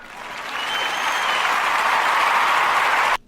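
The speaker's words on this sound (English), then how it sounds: "Thank you, audience, for that gracious round of applause." A studio audience breaks into applause, swelling over the first second into a dense, even clapping that holds and then cuts off sharply.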